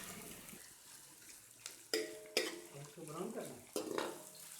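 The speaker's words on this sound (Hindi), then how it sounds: "आधा कप कुकिंग ऑयल मैं देगची में डाल रही हूँ। स्लाइस प्याज इसमें डाल के ब्राउन कर रही हूँ।" Sliced onions frying in half a cup of hot cooking oil in a degchi pot for chicken curry, a soft crackling sizzle broken by a few sharp clanks of a spoon against the metal, close and quiet.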